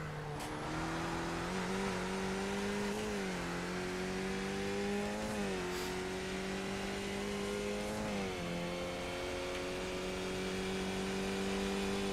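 Skip Barber race car on the VIR Grand West circuit, its engine droning steadily and loud, with pitch rising and dipping through gear changes and corners, heard alone with no voices.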